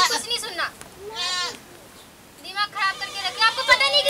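A goat bleats repeatedly in a rural village setting, wavering cries close by with voices talking around them.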